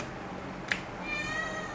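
A house cat begs for food with a single drawn-out, clear meow, close by and fairly quiet, just after a brief sharp click.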